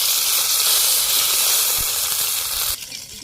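Dried red chillies, cumin seeds and fresh ginger paste sizzle steadily in hot oil in a village kitchen, a loud, continuous hiss that drops off abruptly near the end.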